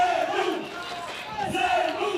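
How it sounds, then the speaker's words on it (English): Cheering section chanting at a 3x3 basketball game, the Zemun team's supporters at a FIBA 3x3 World Tour event in Saskatoon; a steady, moderately loud crowd chant fills the arena with no distinct talk. "We're hearing a chant here."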